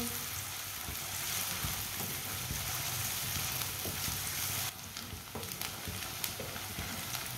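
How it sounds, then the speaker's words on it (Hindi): Onions fry and lightly brown in a hot pan, giving a steady close sizzle with crackling pops and a brief shift where the frying is stirred. "प्याज को हल्का सा ब्राउन कर लेंगे। फुल ब्राउन नहीं करना प्याज को।"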